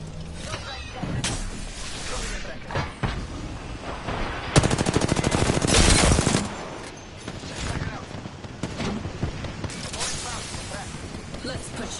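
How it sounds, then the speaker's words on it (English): Gunfire in Apex Legends: scattered shots and a sustained rapid automatic burst midway, loud and close, mixed with game sounds and someone talking. "I'm trying to shoot through buildings."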